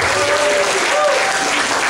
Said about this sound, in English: applause for these guys.